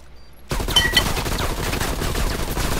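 Video game gunfire breaks out suddenly, a dense crackling fusillade of rapid shots that stays loud and continuous for over two seconds.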